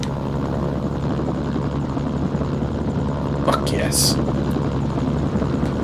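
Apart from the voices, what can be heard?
helicopter flying in a video game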